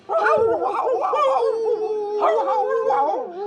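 Voices imitate a dog howling in a sustained, wavering tone, rising and falling like a group singing along with an old brown dog. The howl is loud and continuous.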